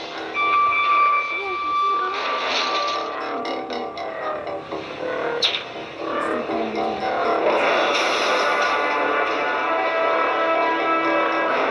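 Train in the video game Granny 3, a loud continuous rumble with metallic tonal whine that builds and holds steady, with a person talking over it.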